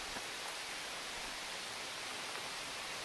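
Steady heavy rain falling in summer woods, a dense even hiss of drops on leaves and ground that holds constant without pause, no voices.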